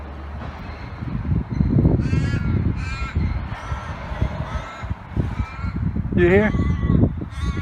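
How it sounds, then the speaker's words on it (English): Crows cawing on the coast at Cottesloe, Perth, in a string of loud, nasal caws in irregular bursts, with someone talking over them. "Listen to these birds."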